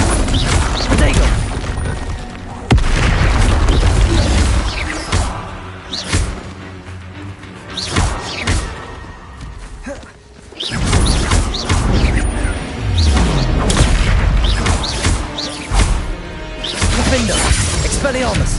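Confringo blasting spell explosions in Hogwarts Legacy come as repeated loud bursts and crashes with shattering debris. Combat effects fill the space between them, and the noise dips briefly about two thirds through.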